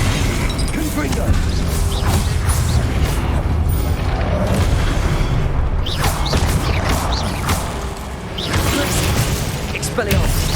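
Repeated Confringo explosion spells in the video game Hogwarts Legacy produce loud booming blasts and crashing, whooshing game effects in quick succession, with a voice talking over the action.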